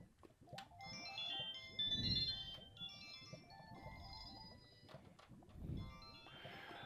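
A phone ringtone plays a repeating electronic melody for several seconds, moderately loud, over low background noise and some thumps.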